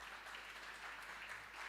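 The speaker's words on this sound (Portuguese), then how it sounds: "uma salva de palmas para vocês" Church congregation at a Sunday evening service giving a round of applause, a faint, even patter of many hands clapping, heard from a distance and lasting the whole short moment.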